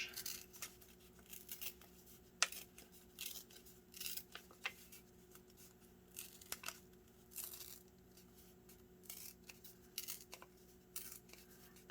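Paper is torn roughly around a witch cutout for a Halloween junk journal, giving quiet, intermittent ripping and crinkling bursts over a faint steady hum, with no talk.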